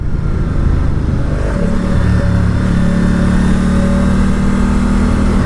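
A 2019 Ducati Diavel 1260S motorcycle engine pulls hard under acceleration on a test ride, a loud, continuous close-up roar with rising engine tones and heavy wind rumble, no voices.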